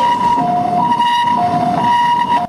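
An ambulance siren, loud and close, wails in a steady two-tone pattern on a Taiwan road while the ambulance is blocked by a Porsche sports car, with traffic rumble underneath.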